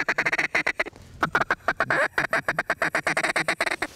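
Ducks quacking in a rapid, continuous run of loud, harsh calls during a late-season waterfowl hunt, close and dense with no talking.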